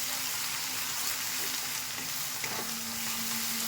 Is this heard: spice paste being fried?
yes